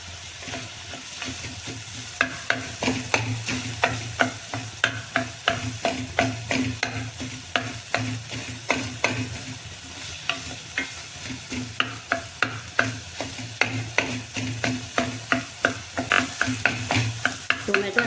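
Golden fried onion and tomato cooking in a pan for a Marathi-style lasuni methi, a continuous sizzle under rapid, rhythmic scraping strokes of a spoon stirring close up.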